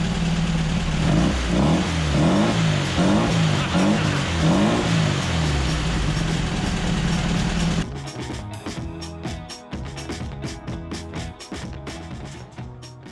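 A VW Baja's four-cylinder engine idles close up with a steady, even throbbing rumble for several seconds, then drops to a quieter, more uneven running sound with scattered knocks.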